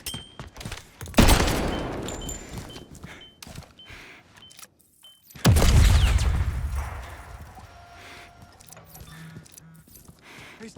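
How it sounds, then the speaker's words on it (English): A grenade explosion and gunfire in the video game 007 First Light: two loud blasts with long rumbling tails, about four seconds apart, followed by scattered quieter combat noise. "Grenade out!"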